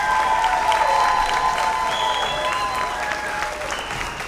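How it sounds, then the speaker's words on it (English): An audience applauds and cheers for first graders taking a bow at a school program, a dense, steady wash of clapping with whistles and shouts on top, sustained and loud throughout. "they really deserve a round of applause"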